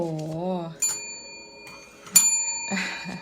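A bright bell strikes twice with long ringing tones, following a brief wavering sung or spoken voice at the start.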